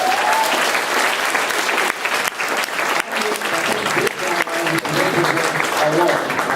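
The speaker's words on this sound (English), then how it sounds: "A big round of applause for Noel." A conference audience in Vilnius gives a sustained, full round of applause throughout, dense and steady with a few voices faintly under it.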